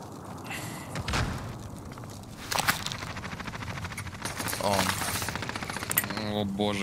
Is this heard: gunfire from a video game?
yes